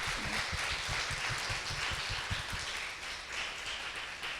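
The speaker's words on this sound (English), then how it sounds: "Let's give one more round of applause." Audience clapping at the close of an artist talk on a Sunday afternoon, a moderate round of hands with audible individual claps, fading slightly toward the end.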